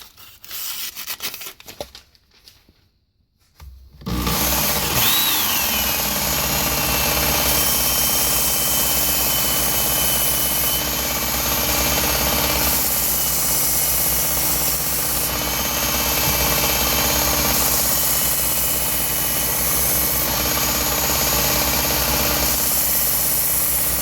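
A Work Sharp blade grinding attachment sharpens a knife, starting with a few brief handling and grinding bursts, then settling into a loud, continuous belt whir with a steady rasping hiss that lasts to the end.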